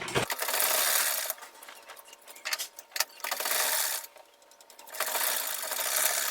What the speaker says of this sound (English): So I'll just go ahead and sew this by 1/2 inch.